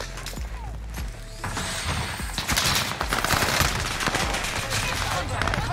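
Rapid automatic gunfire rattles at close range in Call of Duty Warzone, bursts of overlapping shots and impacts hammering almost continuously for several seconds, loud and dense, with a player's voice talking under the noise.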